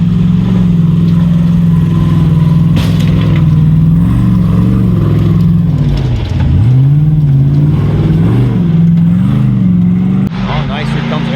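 An Ultra4 off-road race car roars loudly on a lap, its engine droning and rising and falling in pitch as it revs and passes close by, with a commentator talking over it.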